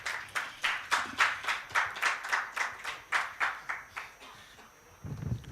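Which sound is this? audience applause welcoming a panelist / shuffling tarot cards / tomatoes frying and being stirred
audience applause welcoming a panelist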